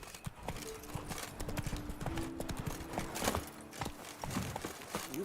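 Roach, the horse in the video game The Witcher 3, walks with a steady clip-clop of hooves over soft background music and a faint voice.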